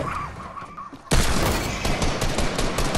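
Rapid gunfire erupts in a video game shootout after a quieter moment, a loud dense burst of overlapping shots that continues to the end.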